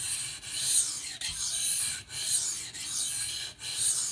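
Dalton 07 Militia knife drawn along a coarse Pride Abrasives sharpening stone, steady scratchy rasping strokes in a regular back-and-forth rhythm, close and fairly loud, with brief pauses between passes.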